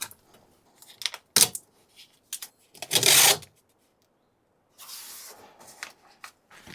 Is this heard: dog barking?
no